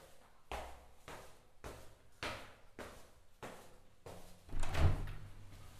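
A door to the upper floor of a villa is worked open, a series of six rhythmic rattling knocks and scrapes, the last one louder with a heavier thud, close by and with no talking.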